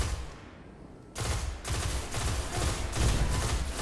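Rapid automatic gunfire from the Destiny video game, a quieter opening then a loud, continuous burst of rattling shots that keeps going with little pause.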